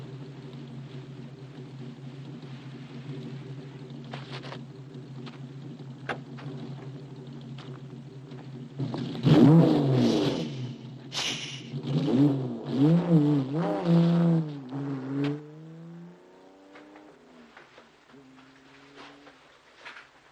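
A car engine idles steadily, then revs up loudly and pulls away, the sound swelling and shifting before fading into quiet distance.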